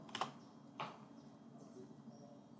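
A few quick computer keyboard keystrokes while typing into a search, two faint clicks in a quiet room with no talk.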